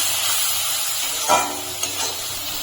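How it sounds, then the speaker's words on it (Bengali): Spice paste with turmeric fries and sizzles in a pan for a prawn and taro-leaf dish, a steady close hiss broken by a few soft scrapes of stirring. "এখন আমি মশলাটাকে ভালো করে কষিয়ে নিচ্ছি।"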